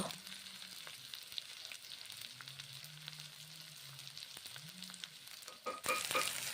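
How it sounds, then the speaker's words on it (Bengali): Food frying in a pan and being stirred, a faint continuous sizzle with soft scraping movements, then a sudden louder hiss near the end as more sizzling erupts. "দেখুন নেড়ে চেড়ে নিচ্ছি এইভাবে রান্না করছি"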